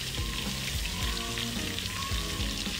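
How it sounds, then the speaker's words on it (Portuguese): Onion sautéing with paprika and turmeric in a pan for rice gives a steady, close sizzle, with a few soft stirring scrapes over the continuous frying hiss. "Vamos deixar refogar um pouquinho, 1 minutinho só,"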